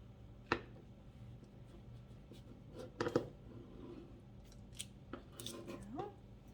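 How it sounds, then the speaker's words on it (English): A serrated bread knife saws through cake for petit fours, giving a few short, quiet rasping strokes spaced out over a faint background, with brief scraping bursts near the start, middle and end. "I'm just using a bread knife, a serrated bread knife"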